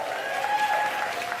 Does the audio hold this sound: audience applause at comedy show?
yes